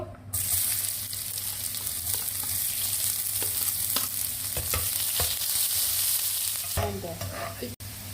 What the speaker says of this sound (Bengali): আমি এখানে তেল দিয়ে দিছি এই কড়াইটার ভিতরে এখানে আমি এখন পেঁয়াজ কুচিটা দিয়ে দিব